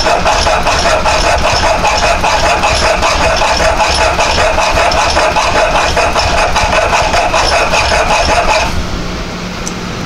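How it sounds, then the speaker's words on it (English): Bench grinder evening out a cut metal piece from a quick lock modified to fit a mill, giving a loud, steady whine with grinding rasp that cuts off near the end to a quieter run-down. "we'll just take the bench grinder and just kind of even all this up a little bit."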